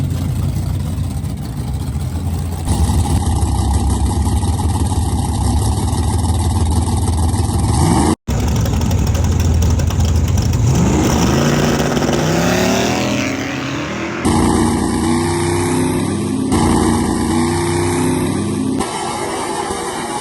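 A nitrous-powered drag race car makes a pass at the track, its engine roaring loud and close through rising gear pulls with abrupt shifts, the sound continuous and dominant for the whole stretch.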